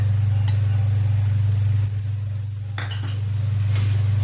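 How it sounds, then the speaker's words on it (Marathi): Dhapate flatbread roasting in oil on a hot pan, a soft continuous sizzle with a few light scraping and clinking touches, over a strong steady low hum that dips briefly midway. "आता या बाजूने चांगलं भाजून घ्यायचं."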